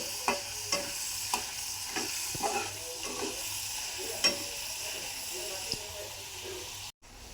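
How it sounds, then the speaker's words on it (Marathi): Dal frying in oil for a cabbage bhaji, a steady soft sizzle with repeated scraping strokes of a spoon as it is stirred continuously, fairly quiet throughout. "तेलात तळून घेतलेली आहे डाळ छान लाल कलर येऊपर्यंत तिला तळून घ्यायची आहे सतत हलवत राहायचं आहे"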